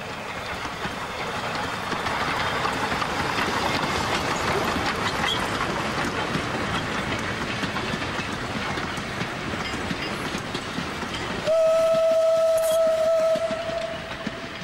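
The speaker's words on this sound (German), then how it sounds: "Derweil setzte die Lok um und fährt nun zurück." Locomotive of the Austrian Taurach Railway running back along the line, a steady rumble and rolling clatter at middle distance, ending in a sustained high tonal whistle or squeal near the close.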